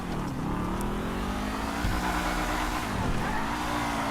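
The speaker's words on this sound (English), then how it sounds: "I'm just going to drive to the garage right now" A car drives through GTA V in steady engine drone with shifting revs. The car is likely a Pfister 811 or Dewbauchee Severn-70. The loud, continuous motor hum with rising and falling pitch carries on, with no talk.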